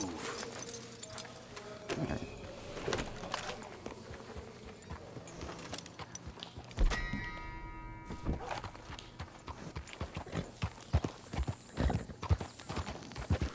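Horse hooves clip-clopping in Red Dead Redemption 2, a run of close, uneven hoof strikes with a brief whinny partway through, and faint talk in the background.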